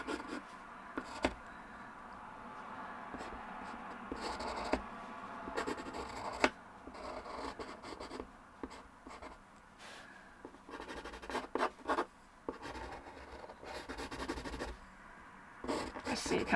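Pencil drawing on paper, with soft, scratchy strokes coming in short irregular bursts, close but faint against a quiet room.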